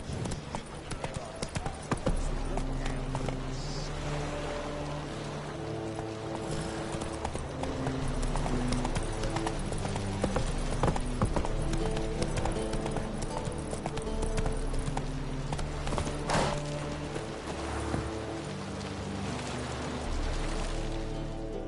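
A horse gallops in the video game Witcher 3, its rapid hoofbeats drumming in a steady clip-clop rhythm, loud and close, with faint game ambience underneath.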